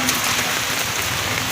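Heavy rain pours steadily during Typhoon Odette, a dense, continuous hiss of drops drumming on surfaces close by, loud and unbroken with no voices.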